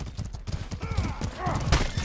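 Hoofbeats clatter from a horse in the medieval combat game Mordhau, with a brief whinny-like cry in a busy, close battle mix.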